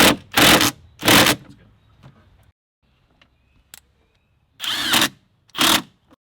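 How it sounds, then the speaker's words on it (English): A power tool driving an 8mm socket to tighten the intake hose clamp on a 2016-2020 Toyota Tacoma cold air intake, firing in short whirring bursts, two early and two later, with quiet gaps between. "Then you use an 8mm and tighten the clamp."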